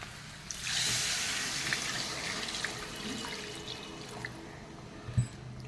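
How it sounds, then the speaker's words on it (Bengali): Water pours steadily into a pan of potato curry being cooked with spices, a broad continuous splashing rush that swells early and holds, with a small clatter near the end. "বন্ধুরা এখন কিন্তু আমি জল দিয়ে দেবো।"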